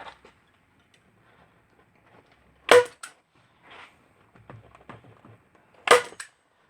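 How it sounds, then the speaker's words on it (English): Hand staple gun stapling canvas onto a wooden stretcher frame: two sharp, close snapping clacks a few seconds apart, with soft handling rustles and taps between them. "what I usually do is use a hand staple gun first, because it doesn't drive the staples so deep into the wood"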